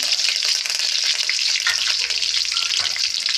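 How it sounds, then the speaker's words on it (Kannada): Mustard seeds and curry leaves sizzle and crackle in hot oil in a pan while cooking beetroot and green gram palya, a loud, steady frying hiss with scattered pops running throughout, no voices. "ಬಾಣಲಿ ಇಟ್ಕೊಂಡಿದ್ದೆ ಬಿಸಿ ಆಗೋಕ್ಕೆ ಅದಕ್ಕೆ ಎಣ್ಣೆ ಹಾಕ್ಕೊಂಡು ಸಾಸಿವೆ ಹಾಕ್ಕೊಂಡಿದ್ದೀನಿ ಚೆನ್ನಾಗಿ ಚಟಾಪ ತಗೊಳ್ಬೇಕು ಅದಕ್ಕೆ ಕರ್ಬೇವಿನ ಸೊಪ್ಪು ಹಾಕ್ಕೊಂಡೆ"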